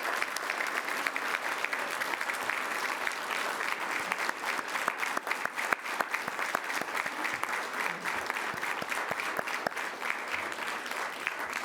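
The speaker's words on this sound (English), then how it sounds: "Let's stand on our feet and give a round of applause to Linda McNeil and all the other homeowners who've endured so much" A crowd on its feet applauds at a government event on water infrastructure, a dense, steady wash of many hands clapping without pause, heard from a distance throughout.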